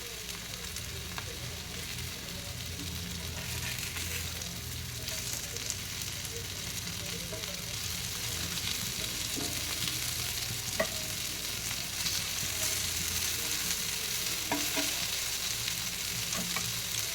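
Fish tawa fry sizzling on a hot griddle, a dense continuous hiss and crackle, close and fairly loud throughout with occasional sharper pops and no talking.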